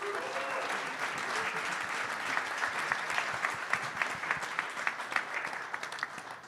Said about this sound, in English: Please give a huge round of applause for Belinda Robles